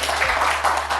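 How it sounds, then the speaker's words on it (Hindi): A burst of loud audience clapping at a foundation meeting in a corporate office, welcoming a colonel to speak, brief and steady with a low hum underneath. "एक बार जोरदार तालियां"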